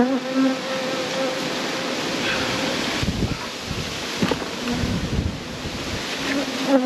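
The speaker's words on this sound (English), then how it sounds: "shake the bees off the queen excluder" Dense honey bee buzzing as bees are shaken off a queen excluder while working a hive, a steady swarming drone with a few dull knocks and thumps near the middle.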